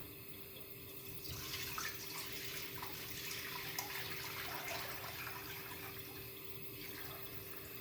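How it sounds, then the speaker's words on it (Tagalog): Cloudy rice-washing water is poured into a soot-blackened clay cooking pot, giving a soft, steady splashing pour that swells for several seconds and then tapers off, fairly faint over a low room hum. "Lagay na natin yan, sabaw ho ng hugas bigas."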